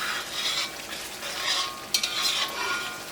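Chicken masala being stirred in a hot pan over high heat for Kerala chicken kondattam, a steady scraping and sizzling with a few sharper spoon clanks against the pan, close and continuous, no talking.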